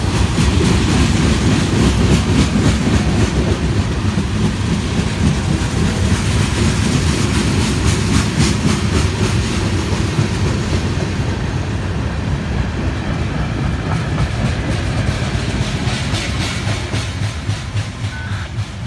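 Amtrak passenger train 103 rumbles past close by in the rain, loud and continuous, with rhythmic clickety-clack of wheels on rails and no voices.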